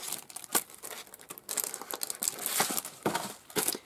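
A plastic bag holding craft dies from a card-making kit is crinkled and handled up close, giving an irregular run of sharp rustles and crackles with no talking.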